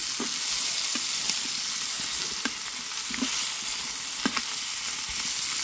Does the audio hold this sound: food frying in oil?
yes